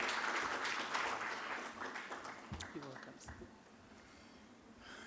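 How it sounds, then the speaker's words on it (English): Applause from a conference audience fills the room, steady at first and then gradually thinning out, with a few louder claps and some voices mixed in. "please help me welcome with a round of applause Dr. John Abdoulaye Jinapor."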